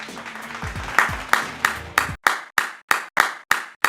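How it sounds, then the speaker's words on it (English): A crowd in a Call of Duty 4: Modern Warfare game scene claps. Dense scattered clapping gives way to about eight slow, evenly spaced loud single claps. The sound is close and there is no talk. "And then everybody clapped."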